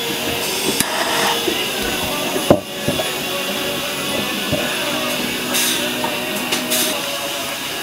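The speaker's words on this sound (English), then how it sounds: "we're going to use an open flame to flare out the edge of the tube" An open-flame torch flares the edge of a plastic rudder tube for a Jackson Kayak Cuda, giving a steady, close hissing roar with a few light knocks and clicks scattered through.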